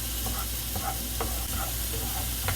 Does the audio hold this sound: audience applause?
no